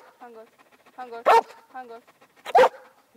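A dog barks loudly twice, sharp close barks standing out between stretches of talk, with a voice speaking in Hungarian around them.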